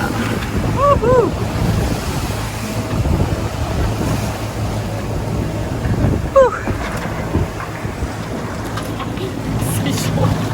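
Sea waves and wind rush steadily around a sailboat out at sea overnight, a continuous broadband wash with bursts of wind noise on the microphone, brief squeaky creaks near the start and middle, and a few faint voices.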